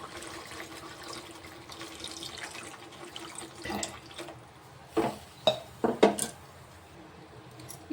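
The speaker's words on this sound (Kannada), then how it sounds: "ಈಗ ಇದಕ್ಕೆ ನೀರು ಹಾಕೊಂಡ್ರಿ." Water runs and splashes into a pot of tomato sambar, a soft steady trickle joined late by a few sharp metallic clanks of the vessel, close and quiet with no talk.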